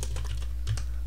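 A short run of computer keyboard typing, several quick crisp keystrokes in an uneven rhythm, close and clear over a steady low hum, with no voice.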